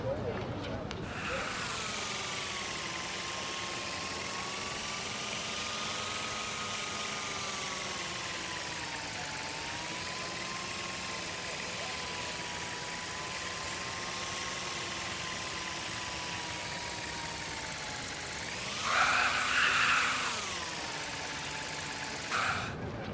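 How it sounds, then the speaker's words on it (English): A drone flying around a school campus in the video game Life Is Strange gives off a steady, buzzing motor whine that rises and dips in pitch as it moves, with a brief louder swell near the end. "Here, give the drone a whirl around campus."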